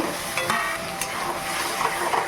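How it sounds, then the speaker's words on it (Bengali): Potatoes sizzle and fry in a spice masala while being stirred, with a steady close crackle and occasional scraping strokes of the spoon in the pan. "এবার আলুগুলো দিয়ে একটু কষে নেব"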